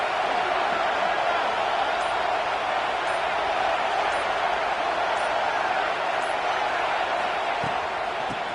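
Stadium crowd in the NCAA 26 college football video game, a dense, continuous roar of many voices that holds steady and moderately loud for the whole stretch.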